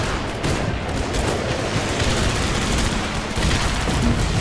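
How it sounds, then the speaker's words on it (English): A bombardment in the war game Guns Up! produces loud, continuous massed gunfire, a dense rattling fusillade mixed with dull booms that keeps up without pause. "Okay, we're gonna just use this bombardment."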